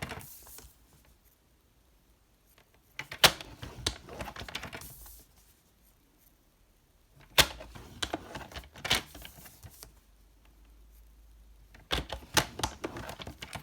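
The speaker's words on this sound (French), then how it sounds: "je vais marquer mes plis sur tous les côtés" A tool scores fold lines into scrapbooking paper in short bursts of dry scraping and tapping, broken by quiet pauses, close to the mic with no voices.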